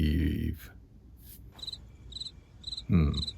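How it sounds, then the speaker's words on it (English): Crickets chirp in short, regular bursts against a quiet background, with a low murmur at the start and end. "All I hear is crickets."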